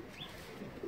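A young roller or racing pigeon, a dark check with white flights, gives a soft, low cooing close by, a steady murmur that swells a little toward the end with no one talking.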